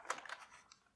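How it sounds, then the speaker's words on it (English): An old, yellowed mid-1990s computer keyboard being handled, giving a few faint, close plastic clicks and light clatters in the first half second before fading to near quiet. "First of all, I have this lovely keyboard."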